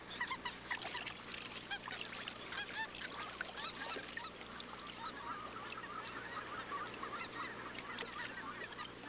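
Geese and ducks honk and call in a dense, continuous chorus across the spring Alaskan wilderness, many overlapping voices at moderate distance, steady and busy for the whole stretch.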